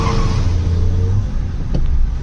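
Maruti Dzire running on CNG pulls away hard in first gear from a standstill, a close, loud engine rumble that rises steadily with a brief surge near the end, no talking over it.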